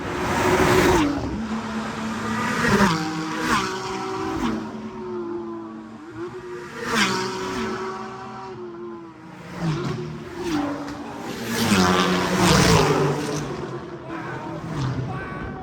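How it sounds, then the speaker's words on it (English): A racing car powered by the Toyota Yaris GR three-cylinder engine revs and accelerates, its odd, rasping exhaust note climbing and falling in repeated surges, fairly close, with no talk over it. "It's just such a unique exhaust note being a 3-cylinder."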